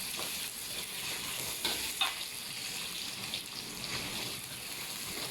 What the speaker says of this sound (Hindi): सबसे पहले हम अदरक जो हमने काटा था, बारीक कटा हुआ अदरक, वो हम इसमें डाल देंगे।